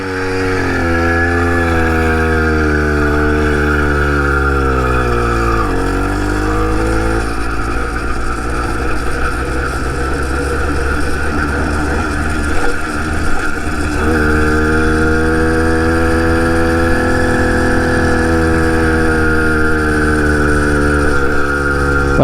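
A 2-stroke motorized bicycle engine running steadily on a test ride, loud and close, its droning pitch sliding down and back up as the rider eases off and accelerates again.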